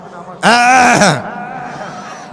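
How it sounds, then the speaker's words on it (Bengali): A crowd of married men at a religious sermon gathering coughs together on cue, one loud, dense burst of many throats lasting under a second before fading into murmuring hall noise. "বিবাহিত ভাইরা একটু কাশি দেন আমার সাথে"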